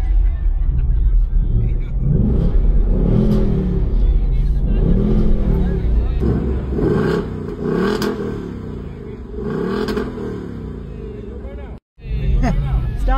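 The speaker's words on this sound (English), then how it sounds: "Can I rev it? We'll rev it a little bit." A 2024 Mustang GT engine with stock exhaust revs repeatedly, rising and falling in rhythmic swells, with people talking over the rumble nearby.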